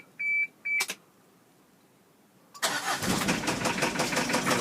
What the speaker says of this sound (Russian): Так, заводим мотор.